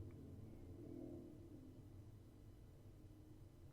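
Faint, low rumble of a car passing outside, swelling briefly near the start and then settling into a steady distant hum.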